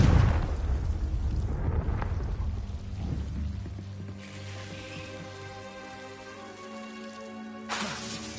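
A Confringo blasting spell in Hogwarts Legacy detonates with a loud, close burst at the start, then fades into a crackling, rumbling tail under steady game music.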